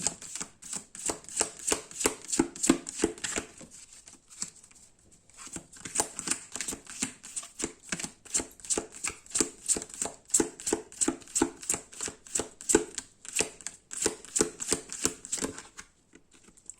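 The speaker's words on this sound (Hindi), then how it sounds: "मैं शफलिंग रखता हूँ ताकि कार्ड्स आपके सामने ही निकले" Tarot cards are shuffled by hand in quick rhythmic riffling bursts, crisp and close. There is a short pause partway through, then a steady pattering run of card flicks with no talk.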